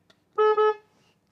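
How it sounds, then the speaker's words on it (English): A Ford Kuga hybrid's horn gives one short, flat toot of under half a second, clear and close with a slight dip midway, followed by quiet. "in the middle, we have the horn, which disappointingly sounds like this."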